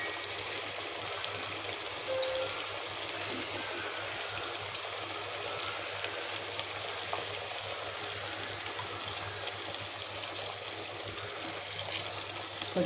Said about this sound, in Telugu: కొద్దిగా నీళ్ళు వేస్తే పట్టుకోకుండా వేగుతుందండి.